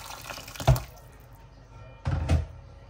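Water poured into a pot of bulgur wheat pilaf in two short splashing bursts with a quiet pause between, close and fairly loud.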